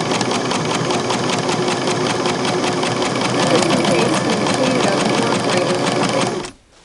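A Singer 6212C sewing machine runs continuously at speed, its needle mechanism producing a loud, rapid mechanical chatter up close, then stops abruptly just before the end.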